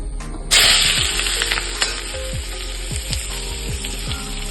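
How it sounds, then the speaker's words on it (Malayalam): Sliced bitter gourd with slit green chillies and curry leaves hits hot coconut oil with a sudden loud sizzle, then keeps frying with a steady crackle while a spoon scrapes and stirs the pan in repeated strokes. "ഇത് വറുത്തെടുക്കണം."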